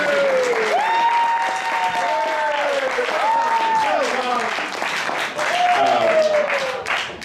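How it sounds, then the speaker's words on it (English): An audience claps in a lecture-hall setting, a continuous patter of many hands that stays fairly loud throughout, with voices talking and calling out over the clapping. "So let's have a round of applause for this."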